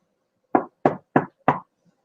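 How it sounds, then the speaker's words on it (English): Four sharp, evenly spaced raps on wood, close and loud, each a short hollow knock with a quick decay, set against near silence. "knock on wood"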